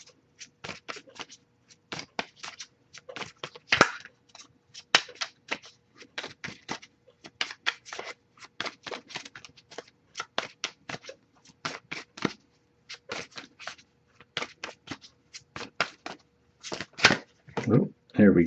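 Cards are shuffled again and again in crisp riffling bursts, close by, with brief pauses between passes.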